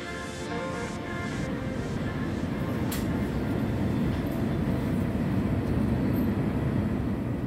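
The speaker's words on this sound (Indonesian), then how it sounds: "kereta api Ranggajati meninggalkan stasiun Tugu, Yogyakarta" Ranggajati passenger train pulling out of Yogyakarta Tugu station, a steady low rumble of rolling wheels and engine that holds constant and close throughout, with no voices.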